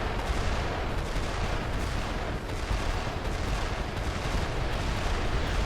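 Heat machine guns firing in the Armored Core: Verdict Day video game against a fast tetrapod mech, a dense, continuous roaring barrage of rapid gunfire with booming low rumble throughout.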